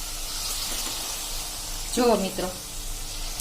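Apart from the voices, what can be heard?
chorafali dough frying in hot oil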